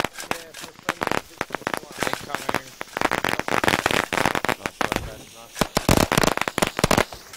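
Gunshots in a Squad pre-alpha multiplayer battle, rapid sharp cracks and volleys in irregular bursts, some close and some farther off, continuing for several seconds.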